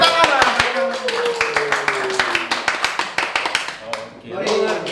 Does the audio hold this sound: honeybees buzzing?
no